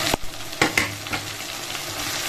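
Ash gourd pieces frying in a pan with ginger and cumin paste, a steady broadband sizzle broken by a few sharp scraping stirs near the start, close and fairly loud, no voices.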